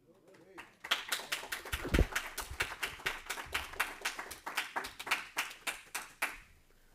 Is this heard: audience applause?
yes